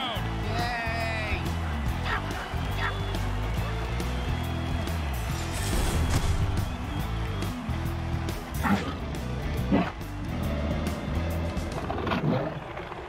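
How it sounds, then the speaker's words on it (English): A dense, steady roar of a cheering stadium crowd after a touchdown in a football video game fills the scene, swelling in places, with a low drone beneath it. "Listen to this crowd."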